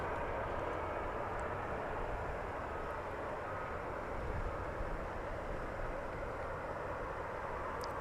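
An airplane passes at DFW Airport on a Thursday night, its engine roar a steady, broad rumble that stays loud and fairly close for the full eight seconds with no talking.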